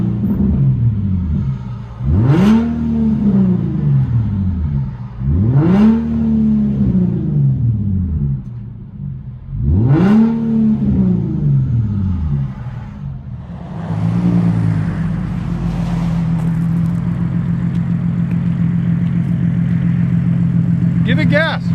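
A 2012 Infiniti G37 3.7L V6 with dual straight-pipe exhaust, heard from inside the car, revs three times in sweeping rising-and-falling pulls, then settles into a loud, steady rumbling drone.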